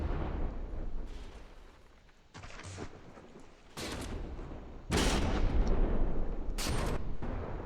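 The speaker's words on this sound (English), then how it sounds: "Seems like only one gun is still functioning." Heavy naval gunfire from a warship in the game DNND2, several loud booming blasts at irregular intervals over a rumbling battle backdrop.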